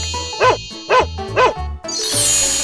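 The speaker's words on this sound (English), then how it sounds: "Dog." Cartoon dog barking three evenly spaced times, loud and close, over a light bouncy music bed that ends with a shimmering chime.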